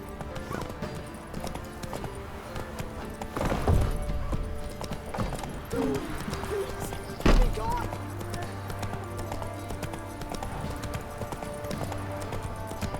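Horse hooves clip-clop at a steady riding pace in The Witcher 3: Wild Hunt, with occasional snorts and a whinny over a soft game ambience, and a voice speaking briefly.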